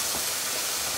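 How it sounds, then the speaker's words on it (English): Green beans steaming in a pan with a splash of water, a continuous bright hiss and soft sizzle that holds steady throughout, close and with no talk. "They're starting to steam already."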